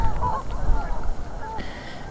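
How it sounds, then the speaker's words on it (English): Geese honk in a rainy riverside setting on the Upper Tamar during lure fishing, calls fairly distant and intermittent over steady rain and wind noise. "Oh, there's the geese again."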